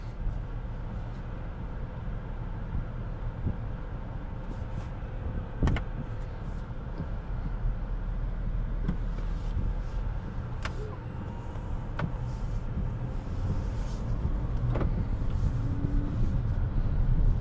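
A 2026 Acura MDX Advance V6 SUV driving on the road, a steady low road and engine rumble heard from inside the cabin, with occasional light clicks and a slow rise in level toward the end.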